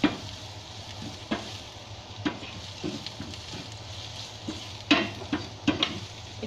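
Meat tossed with spices including rosemary, paprika, seven-spice and dried lime in a hot pan: a steady close sizzle with irregular scraping stirs and light clinks of a utensil against the pan, no talk.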